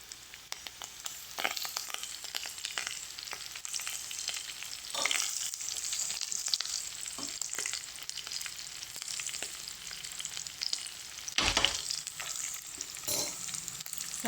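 Chicken and coriander fry in a pan, a continuous hiss of sizzling oil broken by scraping stirs and a few louder bursts, close and steady without talk.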